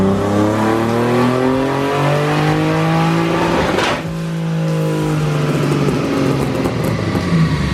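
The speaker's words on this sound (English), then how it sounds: "his car is so freaking loud" A BMW E46 M3 drift car with a newly installed 700+ hp engine revs hard and loud at close range, its pitch climbing and falling through several aggressive bursts.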